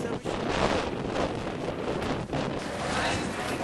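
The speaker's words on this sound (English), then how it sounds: "Windy, crazy, but not raining." Strong, gusty wind buffets the microphone at an outdoor football stadium during a CFL Eastern Semi Final, a steady loud roar with brief dips, no clear voices.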